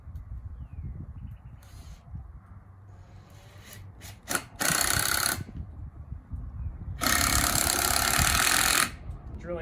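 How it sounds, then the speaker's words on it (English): Two bursts of a power drill whirring as it drives 3-inch screws into wood at an angle, the second longer, with low handling noise and movement between. "Drilling in at an angle there"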